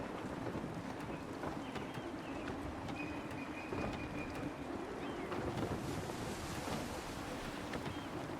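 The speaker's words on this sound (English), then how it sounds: "Wind looks to be shifting. Stay alert, Connor. Gusty winds can be difficult to manage" Gusty wind and rolling waves at sea aboard a sailing ship in Assassin's Creed III Remastered, a steady, full roar of wind and surf that continues without break.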